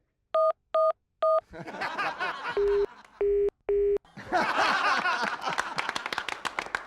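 Three quick electronic beeps, then a burst of chirping birdsong, three lower steady phone-like tones, and more busy chirping, clear and close; birds mimicking mobile phone sounds.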